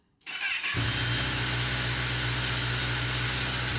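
A 2023 Kawasaki ZX-10R sport motorcycle engine on its stock exhaust cranks briefly and catches, settling into a loud, steady low idle close by.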